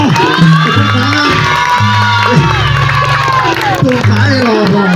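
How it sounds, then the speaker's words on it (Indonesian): A crowd at a comedy stage show cheers and shouts loudly over music playing throughout, with some clapping mixed into the steady, close crowd noise. "Ayo. Tepuk tangan."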